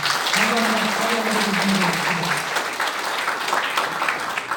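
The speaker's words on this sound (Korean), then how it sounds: "장립준비위원장님께 뜨거운 박수 부탁드리겠습니다" Audience at a conservative group's founding meeting in the National Assembly building in Yeouido applauding, broad continuous clapping throughout, with a voice speaking over it at first.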